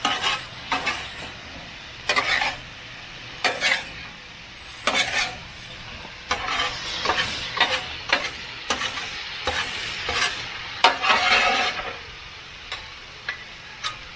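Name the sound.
chicken fried rice sizzling, stirred with spatulas on Blackstone griddle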